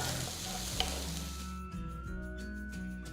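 Chopped garlic, onion, green chili and capsicum sizzle in oil in a pan for fried rice, a soft, steady frying hiss with stirring, set against faint background music.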